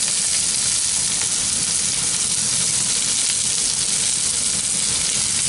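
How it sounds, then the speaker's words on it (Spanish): Onion and pepper sautéing in hot oil in a pan for a seafood paella sofrito; steady, dense sizzling and frying crackle, close and continuous throughout with no voices. "Cuando esté un poquito de sofrito, echamos la cebolla y el pimiento."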